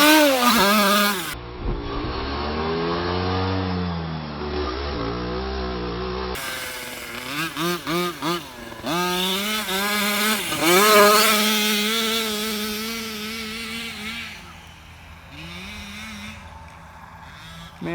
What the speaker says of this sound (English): I'm gonna take it slow, and then give it some gas.